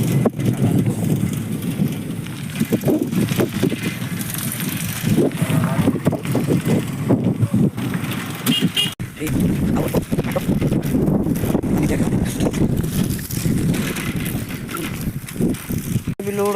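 A tractor harvesting machine cutting a rice paddy gives a continuous rough engine drone and mechanical clatter throughout, with people talking over it.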